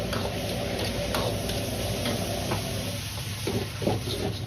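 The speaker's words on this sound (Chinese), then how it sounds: "翻炒个10秒钟左右" Pork strips and long beans being stir-fried over high heat in a wok, a steady close sizzle with scraping stirs and light clicking tosses running throughout.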